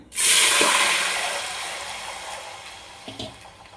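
Soaked red kidney beans tipped with their water into a pan of tempered mustard seeds and curry leaves, a loud splashing pour that starts abruptly and trails off into a fading sizzle, with a small clatter near the end.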